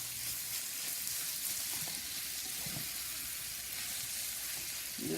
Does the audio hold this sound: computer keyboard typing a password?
no